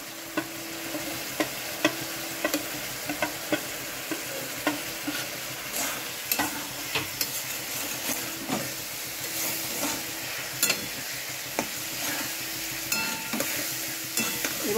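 Cumin, chilli powder and salt fry in a pan, a steady soft sizzle close by, broken by frequent light clicks and scrapes as the spices are stirred, with no talking.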